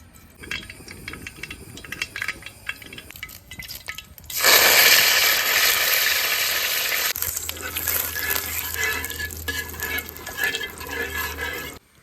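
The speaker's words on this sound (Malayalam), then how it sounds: "നമുക്ക് കുറച്ച് കടുക് ഇട്ട് കൊടുക്കാം." Mustard seeds hit hot oil in an uruli for a country-style chicken curry, bursting into a loud, dense, crackling sizzle that carries on steadily after a few quiet kitchen clinks, with no talking.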